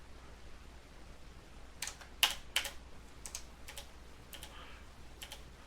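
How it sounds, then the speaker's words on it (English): Computer keys are tapped in a few short, irregular bursts against a quiet background hum. The clicks are fairly close and crisp, with no talking. "Let's go ahead and use keyboard only this time."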